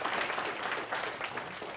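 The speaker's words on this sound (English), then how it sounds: "let's give him a round of applause and get this going" Brief, steady applause from a conference audience welcoming a speaker, many hands clapping evenly at moderate volume with no voices over it.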